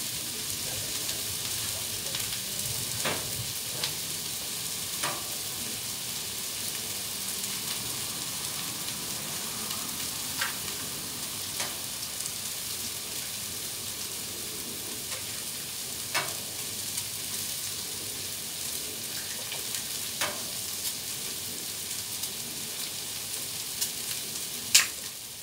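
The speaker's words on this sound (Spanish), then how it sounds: "Ahora echamos unos huevitos," Eggs frying in a pan while making chicken pork fried rice with vegetables, a steady soft sizzle with scattered sharp crackles and pops, fairly quiet and close, with no talking.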